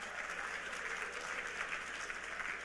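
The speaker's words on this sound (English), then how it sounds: "Let's give them a round of applause." Audience in a room giving a round of applause, a dense, steady wash of clapping throughout the short stretch, fairly close and even in loudness with no speech over it.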